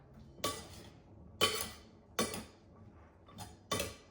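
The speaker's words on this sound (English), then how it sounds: "Now, I'm just going to go ahead and stir all this up." Spoon stirring a copper pennies mixture in a cooking pot, producing about five separate metallic scraping clinks spaced roughly a second apart over a quiet background.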